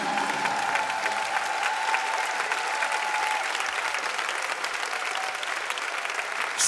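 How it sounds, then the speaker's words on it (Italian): Sustained audience applause fills the hall at a live concert by an orchestra in Rome, a dense, even wash of many hands clapping without a break. "gradiremmo faceste un altro lunghissimo applauso"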